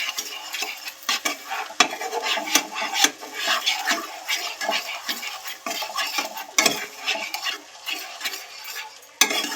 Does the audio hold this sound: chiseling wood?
no